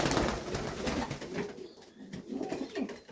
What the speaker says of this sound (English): Got a visitor. Poor racing pigeon.